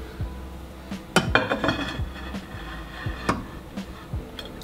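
Scraping and clinking of a utensil pushing rice, stiffened with peanut butter, around a metal pot while cooking beef oxtail; a few sharp knocks and clinks stand out over soft scraping, close and moderately loud, with no talking.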